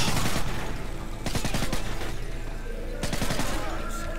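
Enemy gunfire in the video game Call of Duty: Modern Warfare 3, loud rapid automatic bursts crackling in clusters of close shots over a constant battle rumble, with several distinct volleys across the clip.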